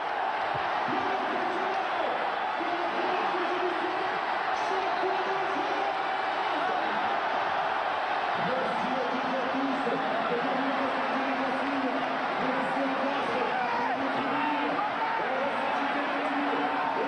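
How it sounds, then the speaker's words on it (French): Lens football supporters in a stadium after the Lyon–Lens Ligue 1 match, a broad distant crowd roar with scattered chants and cheers, steady and continuous throughout. "les applaudissements magnifiques des supporters lensois"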